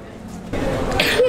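A single sharp sneeze bursts out partway through, with mealtime chatter and clatter around it.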